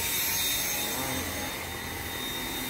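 A Dyson V7 cordless stick vacuum runs steadily on carpet, a continuous loud broadband motor whine and airflow rush with no pauses, heard close up and alone without talk.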